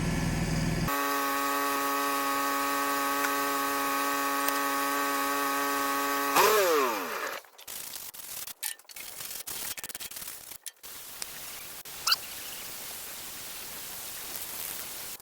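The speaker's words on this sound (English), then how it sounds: "I'm gonna do a little bit of grinding on some of the tacks and get finished dressing everything up." An angle grinder dresses weld tacks on a steel log loader boom, starting with a steady high whine, then spinning down into rough, scraping grinding contact with brief gaps and bumps.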